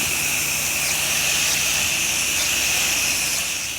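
A pressure washer sprays a downstream cleaning mix onto a deck, a loud, steady high hiss of spray running without pause.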